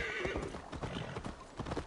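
A horse in Assassin's Creed Valhalla neighs and its hooves clip-clop in a quick gallop rhythm. The sound is fairly quiet, with game ambience behind it.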